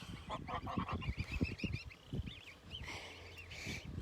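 Several geese honk in a busy, overlapping chorus, with repeated nasal calls and higher piping notes from young birds, fairly close.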